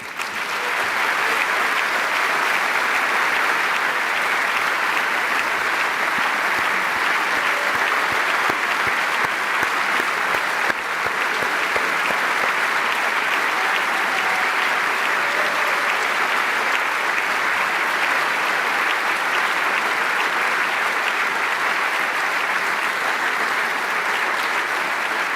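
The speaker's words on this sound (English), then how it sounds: "Listen to these applauds and never forget it." Sustained applause from a large crowd at a Party of European Socialists election congress in 2024 rolls on evenly and loudly for the whole stretch, a dense unbroken roar of clapping.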